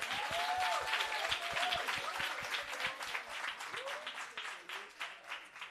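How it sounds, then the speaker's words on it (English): An audience at a workshop and expo on dealing with failure and rejection applauds, with steady clapping throughout. Voices call out and talk over the clapping, which thins slightly toward the end. "So please, can we give them a round of applause?"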